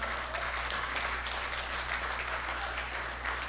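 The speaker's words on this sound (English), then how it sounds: "Please give a round of applause." A crowd applauds steadily throughout, a dense wash of clapping hands at moderate volume, with no voices over it.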